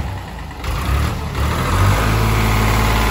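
Tractor engine running after a service, a loud close diesel rumble that idles steadily then rises slightly in pitch and volume as it revs up.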